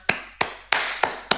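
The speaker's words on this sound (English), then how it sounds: "Round of applause." Five sharp, evenly spaced claps land about a third of a second apart, close and dry, like one person giving a slow round of applause.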